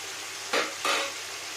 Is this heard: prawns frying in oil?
yes